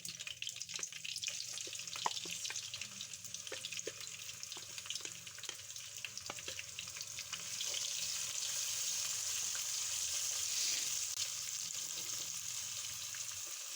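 Chopped medium onion frying in a pan for a street-dhaba-style daal mash, giving a steady soft sizzle with light stirring scrapes that swells slightly louder midway, no voices.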